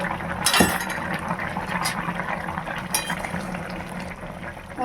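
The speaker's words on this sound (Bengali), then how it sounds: "এটা আমি দশ মিনিট ঢাকা দিয়ে রেখেছিলাম ঢাকাটা উঠে দিচ্ছি" A lid is lifted off a cooking pot of fish curry with sun-dried lentil dumplings in a rural kitchen, giving a sharp metallic clink near the start, then faint clinks over a steady simmering, sizzling background.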